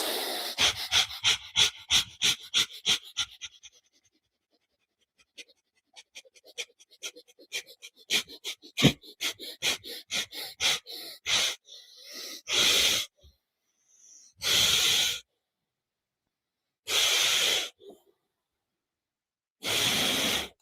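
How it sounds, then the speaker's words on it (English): Rapid deep breathing exercise: a fast train of quick, even breaths that slows and fades, then gives way to a few long, loud, deep breaths separated by pauses, with no talking. "Breathe extremely rapid, and then start slowing down, and then start going into a deeper breath"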